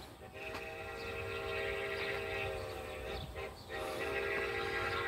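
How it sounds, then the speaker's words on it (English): The whistle of steam locomotive Great Western 90 sounds in long sustained blasts, loud and nearby, briefly dipping before resuming over the rumble of the train. "you could hear her mighty whistle"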